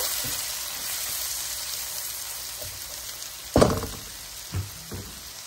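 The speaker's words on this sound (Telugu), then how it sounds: "ఇవన్నీ వేగుతున్నప్పుడు ఉల్లిపాయ ముక్కలు కూడా వేయాలి. ఇవి దోరగా వేగాలి మాట." Onion pieces frying in hot oil for a paneer curry give a steady, close sizzle throughout, with a sharper clatter of stirring or added pieces near the middle and a smaller knock later.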